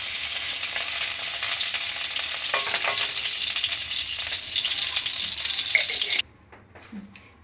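A teaspoon of ghee sizzles in a hot wok on the stove, a steady bright hiss with some stirring, close and loud, then cutting out abruptly near the end leaving quiet handling sounds.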